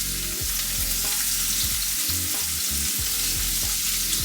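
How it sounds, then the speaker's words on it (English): Shrimp frying in a pan give off a loud, continuous sizzling hiss, close up, with faint low knocks underneath and no voices. "So for the shrimp, we are gonna do it like 5 minutes and 3 minutes on each side"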